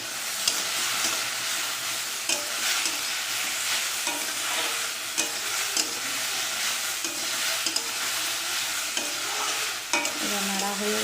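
A fish curry with bitter gourd and brinjal is stirred in a pan over a continuous soft sizzle, the ladle knocking and scraping in a steady, repeated rhythm close by.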